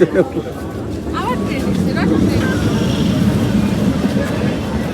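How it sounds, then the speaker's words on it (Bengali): A train rumbles past with a steady clattering roar and occasional high wheel squeals, while people's voices murmur in the background. "রনু কি ট্রেন আসতে ভয় পায়"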